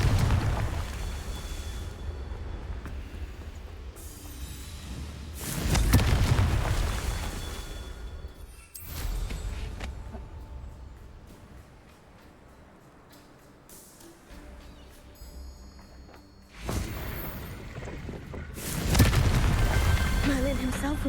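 Confringo fire-spell explosions in Hogwarts Legacy, a few heavy booming blasts spaced several seconds apart that each swell loudly and then decay. Quieter game ambience fills the gaps between them.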